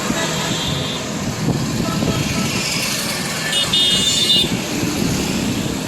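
Steady roadside traffic roar beside a parked Tata 1109 truck, with a continuous broadband rumble of passing vehicles and a voice speaking over it.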